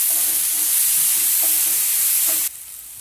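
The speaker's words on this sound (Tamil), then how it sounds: "நல்லா வதக்கி விடுங்க" Tomatoes and onion with salt sauté in a hot pan, giving a loud, steady sizzle with soft stirring scrapes that cut off abruptly near the end, leaving quieter background.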